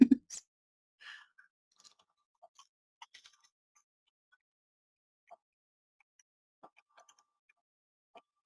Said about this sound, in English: There is a light crunch right at the beginning, and it just kind of crumbles apart and then just slowly melts away in your mouth